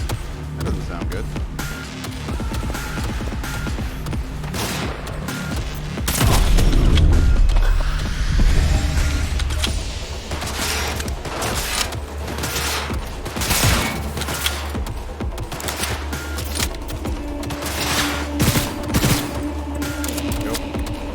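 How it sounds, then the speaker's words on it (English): In the video game Cyberpunk 2077, heavy gunfire erupts in dense bursts and booming blasts, with a big surge of explosive firing partway through amid clanking mechanical noise and a loud, chaotic battle din. "What is that big gun firing?"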